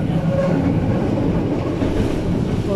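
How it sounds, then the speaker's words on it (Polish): Wrocław line 9 tram turning sharply produces a loud, continuous rumbling roar of wheels on rails with a brief squeal, heard from inside the car. "Tramwaj gwałtownie zakręca, stąd odgłosy skręcającego tramwaju słychać"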